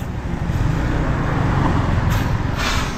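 A vehicle rumbling past on a road, a loud low roar with a brief hiss partway through, heard close amid general traffic noise.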